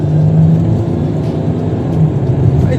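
A Chrysler 300C with a V6 diesel accelerates, giving a steady low growl and whir heard from the cabin, loud and continuous without talk.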